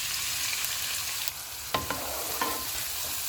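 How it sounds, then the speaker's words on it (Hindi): Onions frying in hot oil for balti chicken give a steady close-up sizzle with a few brief stirring scrapes and clicks through the middle. "ऑयल गर्म हो गया, इसमें प्याज डाल देंगे।"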